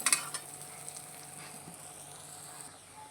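Masala for a brinjal curry cooks in a pan with a faint, steady sizzle, a few clinks of stirring at the start and soft scrapes later, close but quiet.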